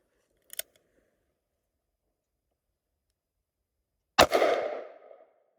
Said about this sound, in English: we will be shooting the Hornady LeverRevolution